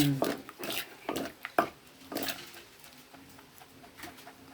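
Thai green papaya salad with field crab being stirred and seasoned in a bowl, a handful of clattering scrapes and knocks in an uneven rhythm, fairly quiet and close.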